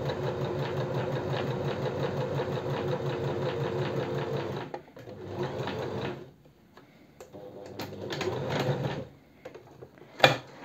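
A domestic sewing machine stitches bias tape in a steady rapid run of mechanical ticking, slows and stops briefly, then stitches again in shorter bursts close by.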